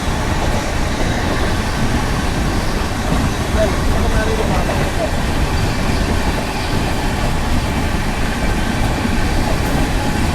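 A MEMU local train passing nearby in a steady, loud rumble of wheels and carriages, with continuous rattling and no pauses across the whole stretch.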